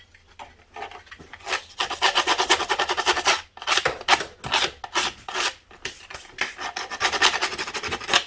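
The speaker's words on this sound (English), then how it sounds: "So we'll just get some sandpaper and give that a quick deburr." Sandpaper is drawn back and forth over the edge of a metal chain or front sprocket cover from a DR200 motorcycle to deburr it, making steady rasping strokes in a close, rhythmic series with short pauses between runs.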